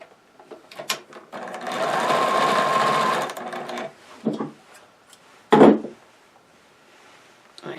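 A sewing machine stitches a stocking seam joining foot, heel and leg in one close burst of a second or two, set among scattered handling knocks and rustles.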